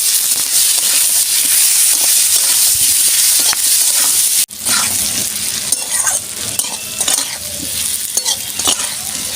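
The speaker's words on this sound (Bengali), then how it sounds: "ভালো করে আমি ভেজে নিই" Food with Kashmiri chilli powder and salt frying in a pan, a loud close sizzle with vigorous stirring and scraping, briefly cut off midway, then resuming slightly quieter with intermittent clatter.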